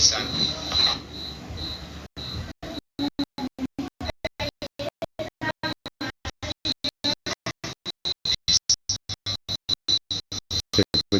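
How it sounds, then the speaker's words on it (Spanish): Crickets chirping in a rapid, regular pulsing train, fairly close and continuous, with a faint voice briefly at the start. "Se escuchan los grillos."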